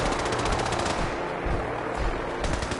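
Rapid automatic gunfire in a PS4 shooter fight against synths, a dense continuous rattle of shots, loud and close throughout.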